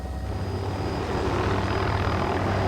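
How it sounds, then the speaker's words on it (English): Loud, continuous rotor thump and engine roar of a helicopter hovering inside Pu'u O'o crater, Hawaii, steady and close, with a rhythmic low beating throughout. "there's a helicopter hovering inside Pu'u Oo crater"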